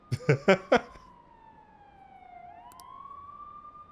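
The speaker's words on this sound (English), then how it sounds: "Thank you, police sirens." Brief burst of voice-like sounds, then a faint, distant police siren wailing and sliding in pitch, sustained in the background, in the video game Persona 5 Royal.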